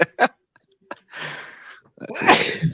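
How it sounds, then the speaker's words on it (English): A single sharp sneeze bursts out at the end, preceded by short breathy sounds and a brief spoken remark. "just trying to stop sneezing there"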